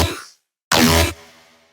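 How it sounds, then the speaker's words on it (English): A dubstep synth bass built in Massive from the Monster 9 wavetable: a short growl, a brief gap, then a loud, thick burst with a fading tail. "let's check out the first bass that actually shows up"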